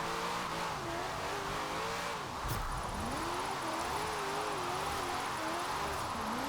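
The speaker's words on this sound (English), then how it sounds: "look how slow it changes gears" An American drift car in Forza Horizon 4, with a locked differential and slightly shortened gear ratios, revs downhill. Its engine note climbs, then dips and climbs again through several slow, drawn-out gear changes, steady and close.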